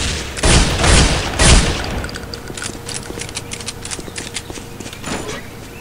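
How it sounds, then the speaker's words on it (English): Gunfire in a Counter-Strike: Condition Zero Deleted Scenes shootout: three loud, heavy bursts close together at the start, then a long stretch of quicker, lighter rapid shots crackling on. "Another crazy shoot fest."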